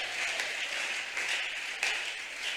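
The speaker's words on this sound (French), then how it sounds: "je demande d'acclamer très fort" A crowd applauds steadily at a leaders' conference, a brief, even burst of clapping from a hall audience cheering for Patriarch Josaphat Tedika.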